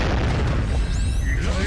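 A loud, rumbling explosion from a MUGEN anime fighting game match between One Piece and Berserk characters. Dense, sustained blast noise fills the clip, with no talking over it.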